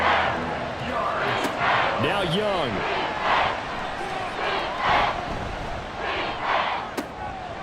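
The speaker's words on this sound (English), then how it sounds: "this crowd is making an impact right now" Stadium crowd roars and cheers in Madden NFL 24 during a Buccaneers versus Panthers game, a steady loud wall of noise with swelling bursts, under a play-by-play commentator talking throughout.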